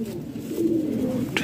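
A pigeon gives a short, low throaty coo, close and clear, over faint background noise.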